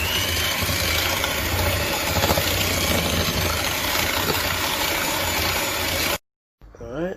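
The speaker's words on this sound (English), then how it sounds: "Let's get it whisking." An electric mixer whisks butter and sugar for biscuits, giving a loud, continuous motor whir with a gritty beating texture that cuts off abruptly near the end, after which a voice is briefly heard.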